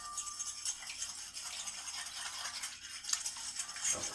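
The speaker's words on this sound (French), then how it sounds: "Bien mélanger." Eggs, a pinch of salt and pear cake batter being mixed in a bowl, a steady scraping, rattling stir that keeps up evenly throughout at a quiet, close level.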